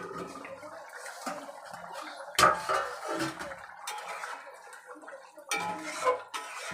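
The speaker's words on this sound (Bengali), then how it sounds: "এবার ঢাকনাটা তুলে নেব।" A lid lifted off a pot of potatoes cooking for a paneer curry, heard as a few close metallic clanks and scrapes of cookware with gaps of quiet between them, no voices.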